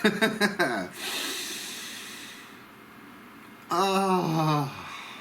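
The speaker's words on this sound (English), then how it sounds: "Breathe." A long, airy deep breath drawn in and let out, close to the microphone, set between short voiced sounds at the start and end.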